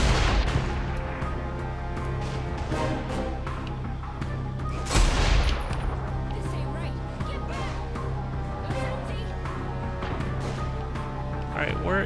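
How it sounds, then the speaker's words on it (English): Rapid gunfire in the open-world crime game Saints Row The Third, a dense run of sharp shots and cracks with a heavier burst near the middle, steady and loud throughout beneath a low hum. "They're shooting me right through."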